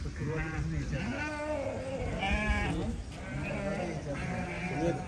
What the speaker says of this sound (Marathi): बकरी आलेल्या आहेत सगळी रिटर्न